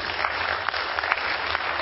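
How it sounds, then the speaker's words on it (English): Church congregation applauding a preacher's gospel message: dense, steady clapping from many hands filling the room, with no voices over it. "You're clapping now."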